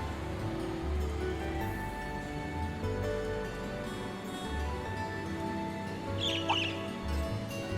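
A brief bird chirp from the video game Trails of Cold Steel rises near the end, faint and short over steady game music and ambience.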